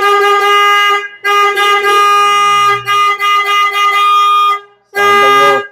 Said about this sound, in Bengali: তোমাদের সঙ্গে এখন আমি এটা শেয়ার করে দেখাই নতুন হর্নটা লাগানোর পর সাউন্ডটা কিরকম হয়েছে।